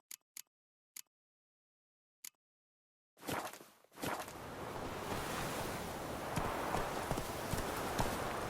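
Hooves of Roach, the horse in The Witcher 3, clip-clop in a few sharp, spaced steps, then give way to a steady wash of wind and surf that carries on to the end.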